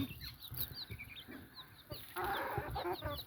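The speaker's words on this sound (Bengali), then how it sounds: "আমরা প্রত্যেকটা মুরগি খাবার দিচ্ছি তারা সুন্দরভাবে খাবার খাচ্ছে" Free-range desi chickens cluck and murmur as they peck at feed on a poultry farm. Their close, overlapping clucks come with a few high bird chirps, and a louder stretch of clucking follows near the end.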